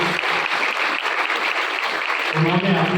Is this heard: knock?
no